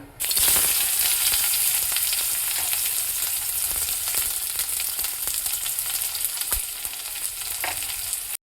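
Chopped onions frying in hot oil in a kadai, a loud continuous sizzle with crackling pops and occasional stirring scrapes, close and steady throughout.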